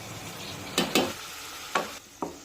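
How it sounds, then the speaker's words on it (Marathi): Onion with ginger-garlic paste and chopped tomato being sautéed in a pan for besan bhurji: a low steady sizzle with a few sharp stirring scrapes, two close together early and two more later, no voices. "आता एखाद मिनिट आलं लसूण पेस्ट कांद्यासोबत परतून झाल्यानंतर यामध्ये एक बारीक चिरलेला टोमॅटो टाकूया"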